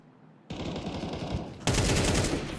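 Rapid automatic gunfire in Counter-Strike 2 during a competitive esports match, a loud continuous burst of shots that grows heavier partway through, with no talk.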